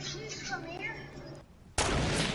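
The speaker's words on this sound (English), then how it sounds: "There's two of them with snipers." A sniper shot in the online shooter game Fortnite, played during a world cup match: a sudden loud blast near the end follows a stretch of quieter game sound with someone talking.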